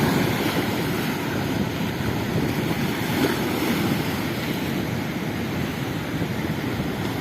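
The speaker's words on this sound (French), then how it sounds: "Juste à regarder la mer qui vient se déchaîner contre les rochers." Sea waves crashing against pink granite rocks on a rocky coast, a steady loud roar of surf with wind, continuous and close with no voices.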